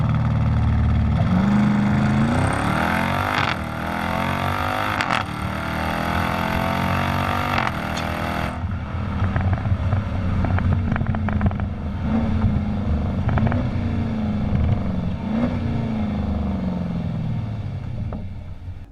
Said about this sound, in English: put your foot all the way down on the brakes, full full pressure on the gas pedal